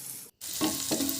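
Onions frying in a pan until brown, a close steady sizzle broken by a short silent gap, then resuming with two louder stirring swells.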